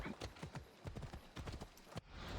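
Horse hooves clip-clop in a quick, steady trot in the video game Assassin's Creed Odyssey, fairly close and alone.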